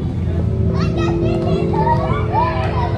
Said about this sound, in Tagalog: Ingay pa ng bata